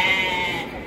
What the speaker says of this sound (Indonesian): Jenis domba tangkas.